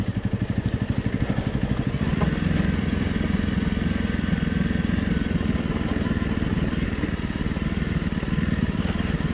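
A Honda CRF 300 Rally motorcycle engine runs steadily throughout while riding off-road, a loud rhythmic thrumming with some rattling, as if riding close to the rider.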